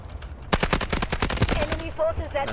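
An SMG-45 submachine gun fires in the Delta Force video game, a loud, fast, continuous burst of evenly spaced rounds lasting over a second, with a voice speaking briefly alongside.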